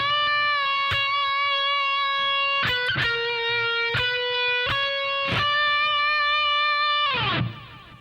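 An electric guitar run through effects plays an E Lydian flat 7 scale phrase, sustained bright notes with a couple of bends, struck one after another and ringing out clearly alone before a final fading strum.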